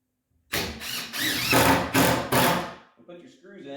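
A cordless power driver sinks screws into wooden braces of a garden raised bed, five or six close, loud whirring bursts in quick succession, each rising in pitch, followed by a brief trailing voice.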